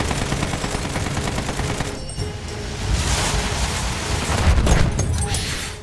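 Burst rockets fired in a rapid six-shot salvo from a video game fighter aircraft at a heavy bomber, dense loud crackling gunfire-like blasts and booms throughout, swelling near the end with no talk.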